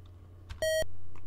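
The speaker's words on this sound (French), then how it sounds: "Ce bip-là, c'est à chaque fois que je me trompe de piton puis je rentre dans le mur" A single short electronic beep from a video game, sounding when the character bumps into a wall, clear and brief against a faint background hum.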